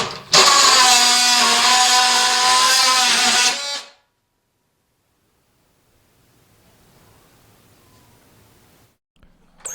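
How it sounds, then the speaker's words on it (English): A DeWalt oscillating power tool runs loud and close for about three and a half seconds with a buzzing whine, then cuts off, leaving near silence with faint background noise. "The DeWalt oscillating tool is just one of those items that makes your day easier"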